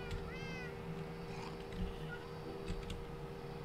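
A cat in a sky-island survival video game meows once, a short clear call near the start, over a steady low game background hum with faint mechanical clicks.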